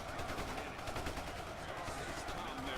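Dense rattling volleys of rifle and machine-gun fire from a massed WWII American army in Ultimate Epic Battle Simulator, continuous and crackling at a distance, with faint voices mixed in.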